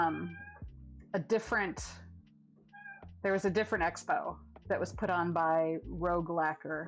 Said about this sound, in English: that was my cat, I think, meowing